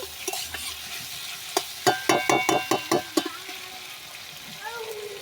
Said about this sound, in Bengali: দিয়ে আমি ভালো করে নাড়াচাড়া করে দেবো